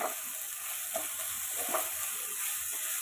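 Chopped ginger, green chilli, tomato and sugar fry gently in a pan, a quiet steady sizzle with a few soft stirring scrapes, close but faint.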